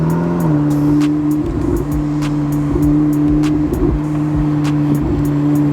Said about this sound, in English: Of course, that Ferrari sound, folks. Twin turbo power and all.